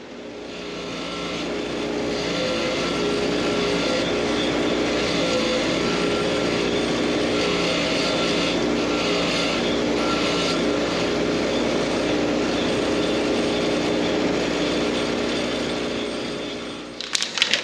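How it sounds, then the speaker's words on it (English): A powered wire brush cleans cut 3-inch bolts for a rustic black walnut coat rack, giving a loud, steady whirring grind that holds for most of the stretch and then winds down at the end. "We're going to take them in there on the wire brush and clean them up"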